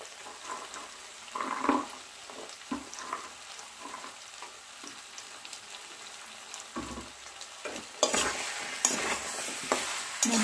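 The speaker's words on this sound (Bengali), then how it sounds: "মটরশুঁটি দেওয়ার পর এই মশলার সাথে একটু হালকা ভাজা ভাজা করে নেব।" Potatoes and peas frying with spices in a pan for alur dom, a soft sizzle under intermittent scraping stirs, louder bursts of stirring and sizzling near the end.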